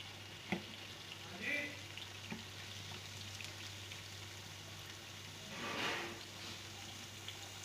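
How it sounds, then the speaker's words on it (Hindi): Gram flour fritters (besan bhalay) fry gently in oil over low heat, a soft, faint sizzle with a few light taps and a brief swell of bubbling partway through. "अब इनको हल्की आंच पे हम दूसरी साइड से फ्राई करेंगे।"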